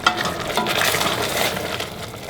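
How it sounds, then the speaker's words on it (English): Mushrooms stirred in a pot of boiling liquid, a steady bubbling and sloshing scrape held close and fairly loud, with no voices over it. "Once it begins to boil, just give them a little mix around"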